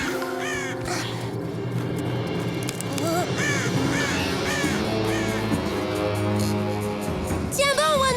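Cartoon birds attack a child in an animated animal show, harsh caws breaking out over a dense musical score and voices, with a sharp cluster of calls near the end.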